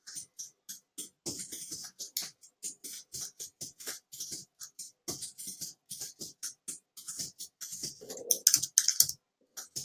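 Rapid, uneven keystrokes clatter on a computer keyboard, continuous for several seconds with brief pauses, close and clear, with no talking.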